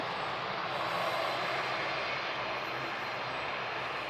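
A Norwegian Boeing 737 at Manchester Airport during a go-around, its engines giving a steady, broad, loud roar that holds without a break, with no voices over it.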